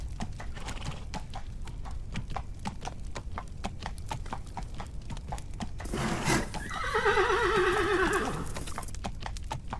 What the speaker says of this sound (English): they were restraining the convulsive plunges of a gigantic and fiery-colored horse